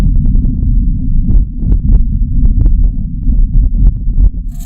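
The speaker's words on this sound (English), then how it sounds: "that's how we know that the wind on the Red Planet sounds like this" Martian wind picked up by the Perseverance rover's microphones, a low rumbling, buffeting roar with gusty swells and soft crackles, steady and fairly loud with no voices.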